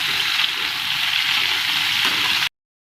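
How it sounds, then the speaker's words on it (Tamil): Sliced bitter gourd sautéing in a pan with salt and turmeric gives a loud, steady sizzle that runs for a couple of seconds and then cuts off. "உப்பு கொஞ்சம் மஞ்சள் சேர்த்து நல்லா வதக்கி எடுத்துக்கிட போகிறோம்."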